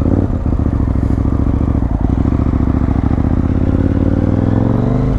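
A KTM 890 Super Duke R motorcycle engine pulls hard and loud close by, with a gear change and continued acceleration throughout.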